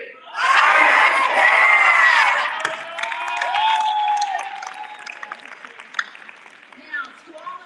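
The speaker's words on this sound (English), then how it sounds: "I want you to scream at the top of your lungs and say, I am STEM" A roomful of students at a Black History program screams a chant together at the top of their lungs, a loud massed shout that swells, peaks and then fades into scattered cheers and voices.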